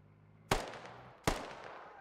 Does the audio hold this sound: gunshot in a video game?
yes